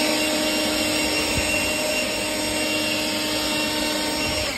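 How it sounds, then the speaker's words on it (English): A leaf blower roars steadily at close range, drying pavers in an enclosed area, a loud, unbroken whoosh of air with a motor whine that holds at one level throughout. "So I'm gonna blow to help me a little bit, to help the pavers dry a little bit."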